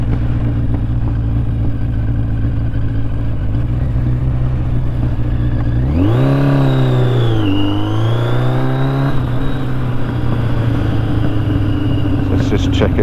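Steady motorcycle engine drone with a fluttering idle and a loud rev that climbs and dips midway before settling back to idle, close and continuous.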